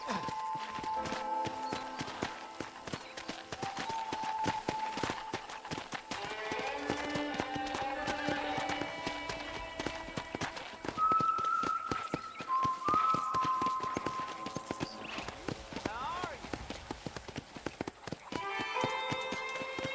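Horse hooves clip-clopping in Red Dead Redemption, a steady, even stream of hoofbeats lasting the whole stretch, set under game music with a voice speaking.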